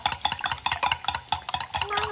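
Rapid scraping and clattering of a steak and egg frittata being flipped in a frying pan, rhythmic metallic scuffs repeating quickly and close by.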